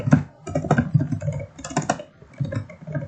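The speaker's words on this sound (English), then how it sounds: "you're going to just type in the command Firefox http" Someone types a command on a computer keyboard in quick, uneven bursts of close, crisp key clicks, with short pauses between runs.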